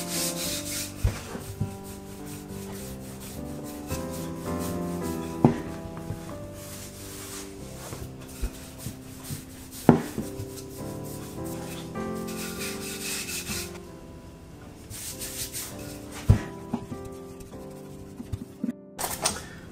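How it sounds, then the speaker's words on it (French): Rolling pin working Alsatian bredele Christmas biscuit dough on a floured worktop, thinning it to 4 mm, with repeated soft rubbing strokes that continue under background music. "à l'aide d'un rouleau, je vais l'abaisser jusqu'à une épaisseur de 4 mm"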